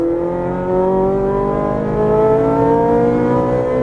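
A supercar engine accelerates hard on a race track at Exotics Racing Las Vegas, a loud, steady, close roar whose pitch climbs smoothly throughout without a break.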